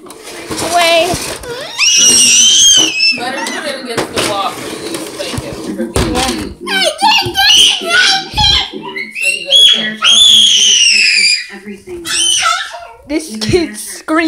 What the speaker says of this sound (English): This kid's screaming.